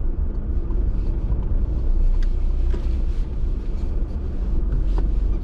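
A car engine idles and rumbles low and steady at close range while the car maneuvers slowly to park in a country village, a continuous muffled drone with light wind noise and no talk.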